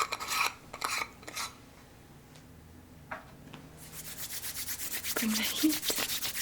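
Wax rubbed between the hands, heard as soft brushing friction in short bursts at the start and then a steadier, louder rubbing toward the end, close and intimate with a brief voice in the middle.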